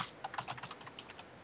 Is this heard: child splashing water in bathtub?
no